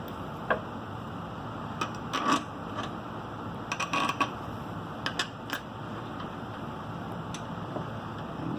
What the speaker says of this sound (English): Drop our casing bolts back in.